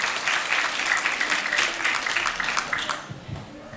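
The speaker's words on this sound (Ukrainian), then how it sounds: "їм також оплески" Audience applause at a charity concert, a dense, fairly loud wash of clapping that fades out near the end as a voice begins.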